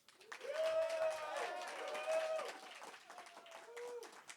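A live audience at a quiz-style night claps and cheers to vote for Italian New Year, a sustained wash of many hands with whooping voices riding over it.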